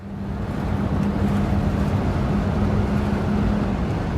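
A 1973 Mercedes-Benz 450SLC fitted with a Pertronix Ignitor drives along, its engine a steady, loud low drone with a constant hum and road rumble throughout, no voices.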